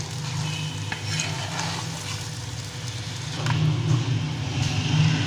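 Okra being stirred in a pan while chicken okra cooks, a steady scraping sizzle that grows slightly louder toward the end.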